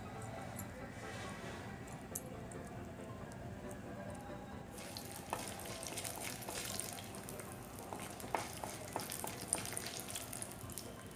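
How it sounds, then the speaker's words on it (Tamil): Mustard seeds and lentils crackle and splutter in hot oil, the popping growing denser and louder partway through, with sharp scattered pops. "கடுகு உளுந்தம் பருப்பு போட்டிருக்கேன்"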